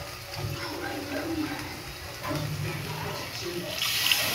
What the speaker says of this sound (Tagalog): Lagyan mo tubig kunti.